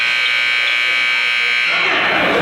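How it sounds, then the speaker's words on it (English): A loud, steady electronic buzzer sounds at a high school basketball game between Shaler and Highlands, holding for about two seconds before giving way to gym noise. "Shaler, Mike, just returning from halftime at the buzzer."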